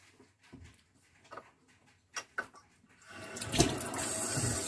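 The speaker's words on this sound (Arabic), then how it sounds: "ودابا غادي نفزك يدي بشويه ديال الماء" After a few soft clicks and handling sounds, running water starts suddenly and streams steadily as hands are wetted with a little water, close by and without speech.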